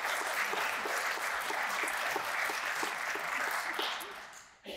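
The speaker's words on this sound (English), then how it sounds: "So let's give them both a round of applause." Audience applause at an anniversary event, with dense, even clapping that holds steady and loud before tapering off quickly at the end.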